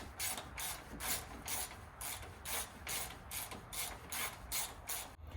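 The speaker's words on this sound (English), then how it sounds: "next all we got to do is tighten up the lower shock bolts" A ratchet wrench tightens the lower shock bolts on a restomod Jeep Wagoneer during a rear lift install. It makes a quiet, steady series of rhythmic clicking strokes, about two per second, with no voices.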